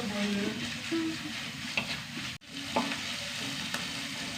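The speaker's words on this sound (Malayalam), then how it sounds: "ചതച്ചതാണ് ഇഞ്ചിയും വെളുത്തുള്ളിയും ചെറിയ ഉള്ളി നന്നായി മൂത്ത് വരട്ടെ" Crushed ginger, garlic and shallots fry in a pan with a soft, steady sizzle, faint and close, broken by a few stirring scrapes.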